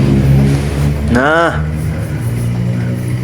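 A new Yamaha NMAX scooter, being repaired after a no-start fault with the check engine light on, idles loudly up close. Its engine gives one quick rising and falling rev while someone talks over it.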